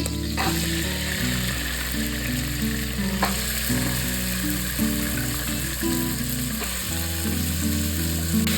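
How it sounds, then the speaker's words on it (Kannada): Sprouted grains tipped into hot oil with onions for tempering, giving a loud, continuous close-up sizzle with some stirring, over a steady low tonal background. "ಇವಾಗ ಕಾಳುಗಳೆಲ್ಲನೂ ಒಗ್ಗರಣೆಗೆ ಹಾಕೊಳ್ತಾ ಇದ್ದೀನಿ"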